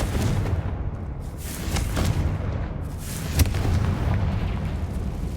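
In Hogwarts Legacy, a Confringo blasting spell goes off with a loud, rumbling explosion that fills the scene, sustained booms and crackling debris throughout, with no talk.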